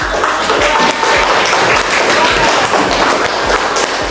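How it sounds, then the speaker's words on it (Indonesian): Loud classroom applause for a group presentation by seventh graders, with dense close clapping and occasional thumps on desks throughout, and no speech over it. "Tepuk tangan"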